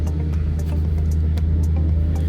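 McLaren 650S Le Mans engine idling, heard from inside the car: a deep, steady throbbing rumble with a low pulsing drone, loud and continuous, with no talk.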